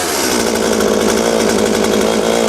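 A Stihl MS 192 C chainsaw fires up and runs steadily with a loud, continuous close-up engine buzz, with no talking.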